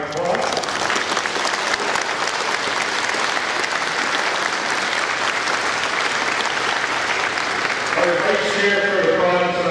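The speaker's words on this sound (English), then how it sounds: "So to our car seat people and our therapy officers, a round of applause." An audience at a St. John's branch annual inspection gives sustained, dense applause for the car seat and therapy volunteers, steady and close throughout, with a voice starting to speak near the end.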